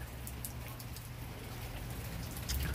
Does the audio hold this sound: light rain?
yes